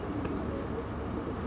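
Pigeons cooing at close range, soft repeated low coos over a steady murmur of birds, with a few faint chirps and no talking.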